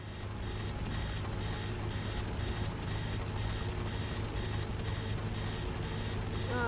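Military helicopter flying in the video game Prototype: a steady, loud, rapid rotor chop with a constant engine whine, pulsing evenly throughout with no talk over it.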